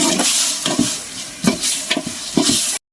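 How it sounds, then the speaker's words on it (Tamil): Chicken biryani masala with tomatoes sizzles in a pan while a spoon scrapes and stirs it in a few uneven strokes, close and fairly loud, with no talking. "அப்படியே ஒரு கிண்டிடலாம்."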